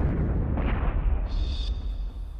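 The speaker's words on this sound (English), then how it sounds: "the warhead detonates." A bunker-busting cruise missile warhead detonates in a deep, sustained rumbling blast that rolls on continuously, with a thin high tone appearing partway through.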